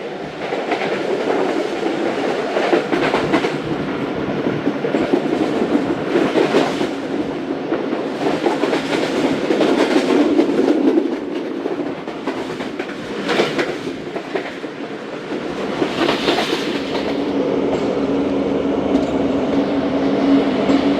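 A Tezgam express train rushes past at speed through Lodhran Junction in Pakistan, with continuous rumbling and rattling wheels, the clatter rising and falling in waves, with no voices.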